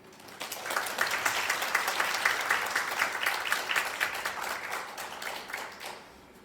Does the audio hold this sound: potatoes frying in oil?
no